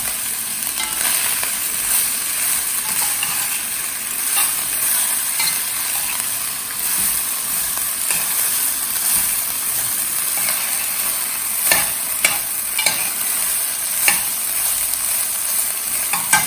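Paneer sizzler mixed in a hot pan gives off a loud, constant hiss of sizzling. Now and then a spoon scrapes or clinks against the metal, all close up with nobody talking.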